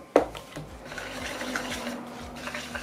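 Pancake batter of flour and baking powder being stirred in a bowl, a soft, steady scraping and swishing that follows a sharp knock at the start, with no talking.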